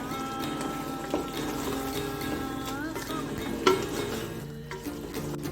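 Quail biryani is stirred in a pot, giving a soft continuous sizzle and scraping under a faint background hum, with a brief clatter near the end.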